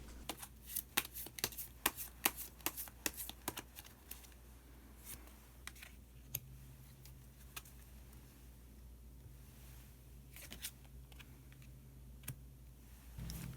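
Tarot cards are shuffled in a quick flurry of crisp, papery flicks and taps, then the pace slows to scattered single snaps as cards are drawn, all close and quiet.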